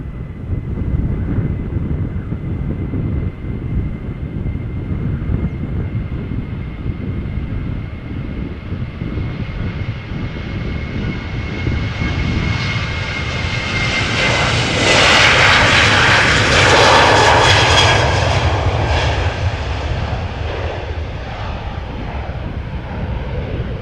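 A Boeing 737-800 bound for Berlin takes off at Amsterdam Schiphol, its jet roar building and brightening as it passes nearest midway, then easing while the low rumble continues.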